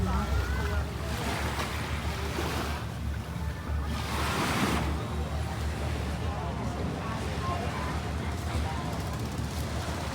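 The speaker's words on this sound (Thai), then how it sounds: "ริมทะเลนะคะ" Sea waves washing onto the shore at Ko Sichang in Chonburi, a steady broad surf wash with wind, with someone talking over it throughout.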